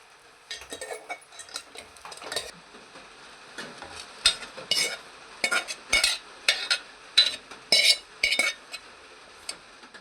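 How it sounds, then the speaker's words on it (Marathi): Desiccated coconut roasting in ghee in a pan, heard as a run of light scraping and stirring clinks of a spoon against metal, close and intermittent, with no speech. "ते सुकं खोबरं आपण थोडंसं भाजून घे तुपावर"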